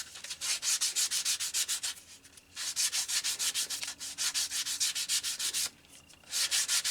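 A sander works on a wooden handle for a marking knife, making loud rhythmic rasping strokes in close, steady bursts, with short pauses between passes.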